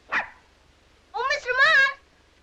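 Small puppies give a sharp yip near the start, then a longer run of whiny, tonal barks and whimpers about a second later, close and fairly loud.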